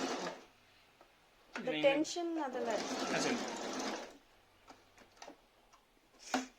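A Singer Talent sewing machine runs a zigzag stitch in short mechanical ticking runs, mixed with bursts of close-up talking.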